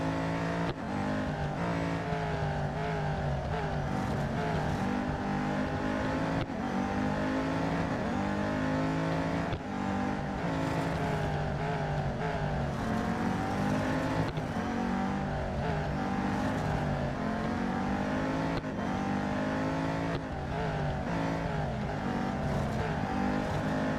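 Cars race in the Real Racing 3 video game as engines whine and rev up and down through gear changes, holding a loud, steady drone with repeated pitch sweeps and occasional passing surges throughout.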